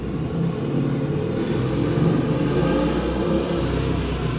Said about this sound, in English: the motorcycle rips off from here